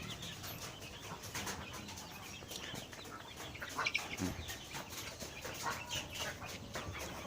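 Four-week-old Hy-Line Brown laying-hen chicks cluck and peep in a scattered flock, soft chirps and clucks repeating irregularly at a moderate distance over faint background noise.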